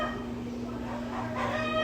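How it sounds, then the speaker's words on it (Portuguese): A rooster crows, its call rising near the end over a steady background hum and noise, fairly faint and distant rather than close. "Vamos continuar apesar do galo."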